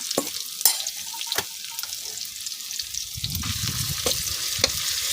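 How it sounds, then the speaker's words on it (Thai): Red curry paste and pounded red chili stir-frying in a pan, a quiet sizzle punctuated by sharp scraping strokes of a spatula, with a low bubbling swell in the second half. "ต่อไปเราก็จะผัดพริกแกงแล้วก็ พริกแดงตำให้มีกลิ่นหอมค่ะ"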